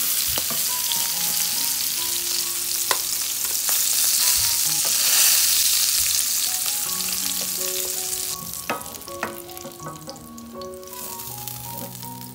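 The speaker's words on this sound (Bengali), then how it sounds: "মাছ কিন্তু অলমোস্ট রেডি ফ্রাই করা।" Rohu fish frying in hot oil for a curry with ash gourd. A loud, continuous sizzle is stirred at times, with occasional clinks of a utensil against the pan and no talking.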